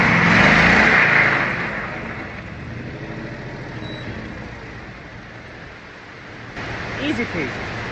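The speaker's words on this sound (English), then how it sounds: "Just got to give it a little throttle" A vehicle engine stuck in mud, revving and easing off as throttle is applied to get unstuck, a loud rough drone that swells and fades with outdoor wind noise, with a person speaking.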